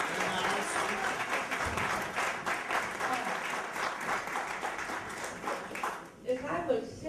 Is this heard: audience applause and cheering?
yes